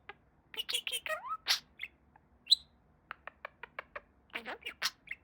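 A pet budgie parakeet chirps and chatters in a quick series of short, bright tweets and warbles, close and fairly soft, with brief pauses between bursts and one sharp higher note.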